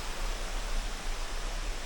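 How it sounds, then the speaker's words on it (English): A small waterfall at Blue Basin pours into a river below, a soft, even hiss of flowing water heard faintly and continuously for a couple of seconds. "Another beautiful little waterfall"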